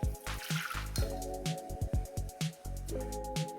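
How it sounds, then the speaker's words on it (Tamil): Blended raw mango juice being strained, with wet squishing and dripping sounds in short repeated bursts, close and fairly loud, with small clinks between them. "இப்போது மிக்ஸ் பண்ணியாச்சு, வடிச்சிடுவோம்"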